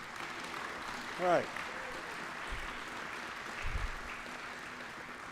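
An audience at a Hall of Fame ceremony claps steadily for a museum board chairman, a soft, even patter of applause in a large room, briefly overlaid by a voice.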